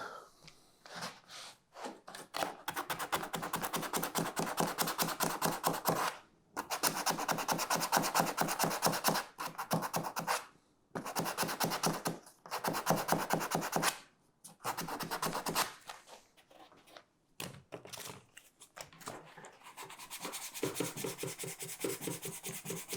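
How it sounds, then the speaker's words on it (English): Sandpaper strips rub briskly across an EVA foam cosplay prop in repeated rhythmic back-and-forth strokes, broken by short pauses, close and fairly quiet, with no talking. "you just go ahead and do that across the whole prop"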